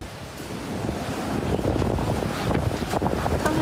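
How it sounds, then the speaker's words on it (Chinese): Heavy surf pounds the shore of Lanyu island under the fierce winds of Typhoon Kong-rey, a loud, close roar of crashing waves with gusts buffeting the microphone, swelling stronger toward the end. "海浪势真凶"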